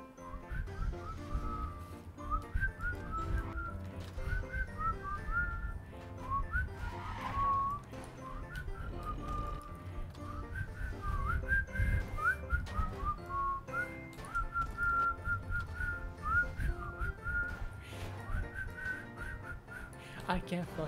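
A man struggling to whistle a tune over background music while playing Minecraft, wavering breathy whistled notes in short uneven phrases, close and fairly loud, with the melody breaking off and restarting.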